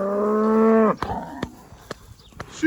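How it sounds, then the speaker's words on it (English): A lead cow gives one long, loud, close moo while cattle and sheep are moved to the next paddock, followed by a few faint clicks and knocks. "Here's our lead cow."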